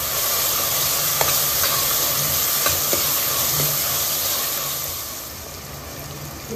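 Chopped onion pieces with a little salt and turmeric frying in hot oil for a curry, giving a steady, loud sizzle close by with a few faint stirring clicks and no talk.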